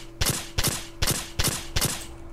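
Five sharp gunshots in quick succession, evenly spaced, each a loud crack with a short tail, from CZ pistol fire in the video game MTA DayZ.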